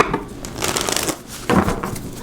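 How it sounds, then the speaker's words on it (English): A deck of tarot cards is shuffled close up during a private reading, giving quick papery riffles and soft slaps across a couple of seconds with no talk. "2 more shuffles."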